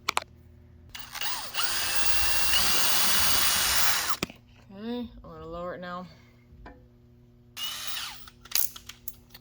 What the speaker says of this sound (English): Drill the pilot hole, make sure you're still on the same angle.